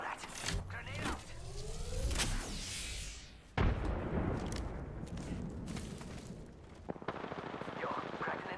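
Gunfire from a Pathfinder match in a battle royale shooter, repeated loud shots and bursts over several seconds, mixed with game sound effects and a sharp impact midway.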